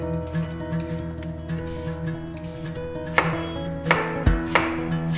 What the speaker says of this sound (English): So first we're gonna peel the potatoes.